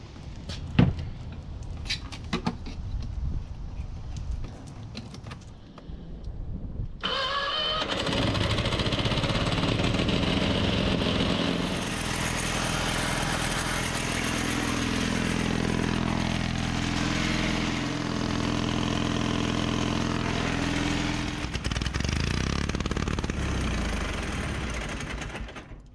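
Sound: pony motor starting and running on 1950s Caterpillar tractor

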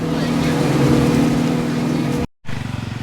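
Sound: speedboat engine running on the sea

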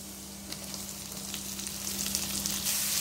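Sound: onions sautéing in a pan for samosa filling

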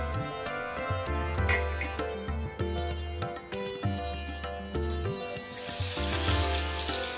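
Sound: fish frying in coconut oil in a pan

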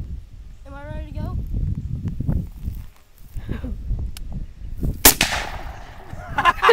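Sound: gunshot

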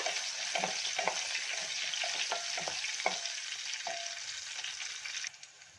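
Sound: frying greens palya in a pan

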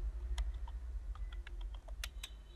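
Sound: typing a folder name on a computer keyboard

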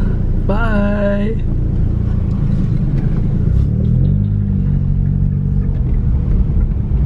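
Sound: car driving away

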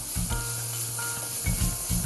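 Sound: vegetables sizzling in hot oil

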